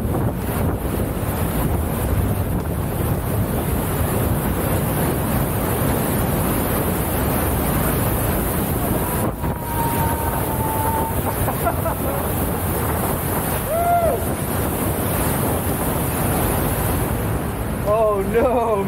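Waterfall inside Smoo Cave on Scotland's north coast, a steady, loud broadband roar of falling water filling the whole stretch without letup, with brief faint voices over the rush.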